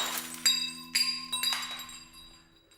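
Wine glasses set on posts in an obstacle course get knocked over and shatter, giving several sharp glassy crashes and clinks in quick succession, each ringing out and fading, close and alone.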